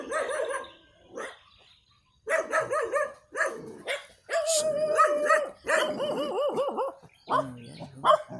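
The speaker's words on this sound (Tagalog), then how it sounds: "Aso, oh." Dog barking outdoors under a mango tree on a farm, with several sharp barks and yips coming in irregular bursts and short pauses, fairly close and loud, with no talk over them.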